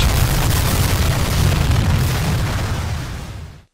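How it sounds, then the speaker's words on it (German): A big video game explosion in The Henry Stickmin Collection: a loud, sustained booming blast with a dense roar that holds for about three seconds and then cuts off abruptly. "Fette Explosion."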